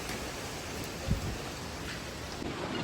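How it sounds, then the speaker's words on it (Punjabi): Steady rain hisses evenly throughout on a mountain trail in the Everest region of Nepal, with a single dull thump partway through. "ਮੌਸਮ ਪੂਰਾ ਗੰਦਾ ਹੋ ਗਿਆ ਇਤਨਾ ਬਾਰਿਸ਼ ਵਾਲਾ"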